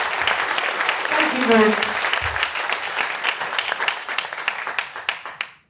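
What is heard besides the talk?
audience applause welcoming speaker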